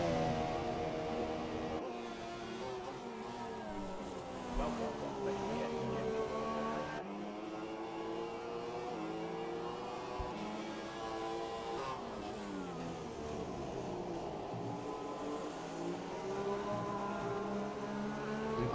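An F1 race car engine in a racing video game, Grand Prix of Great Britain, drones with a high revving whine that rises and falls through gear shifts, steady and continuous with no talk.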